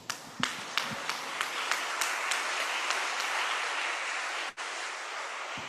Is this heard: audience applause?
yes